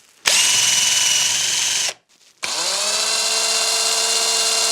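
A Kimo hammer drill runs loud and steady at high speed, stops briefly, then starts again and keeps whirring, close by with no voices.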